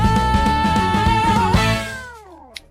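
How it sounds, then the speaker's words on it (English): A single drawn-out cat meow, loud and close, holding a steady tone before sliding downward and trailing off, with a small click at the end. "In a tiny home where the soft lights glow lives Eddie the cat, the star of the show."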